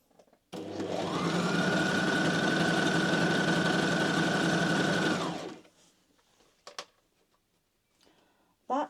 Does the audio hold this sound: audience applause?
no